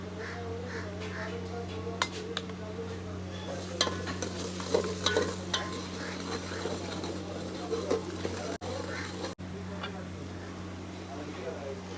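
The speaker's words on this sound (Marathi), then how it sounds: "कांदा एकदम लाल में भाजा है लसूण पेस्ट" Onion and garlic paste fries for a village-style mutton curry, a soft steady sizzle with light stirring clinks, under a low constant hum and some background voices, with crows faintly cawing.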